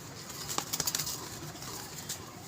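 A pigeon at a pigeon club gives a short run of soft cooing pulses, faint and close, followed by a few light flutters against a quiet background hum.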